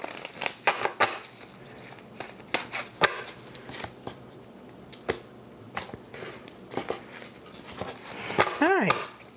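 Tarot card deck being cut and handled, making soft slaps and quick riffling clicks at close range, with a brief chirping sound near the end.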